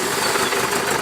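A Yamaha 900 Diversion motorcycle engine turning over and running, a steady, loud mechanical drone with a rough, slightly knocking texture throughout, heard alone without talk.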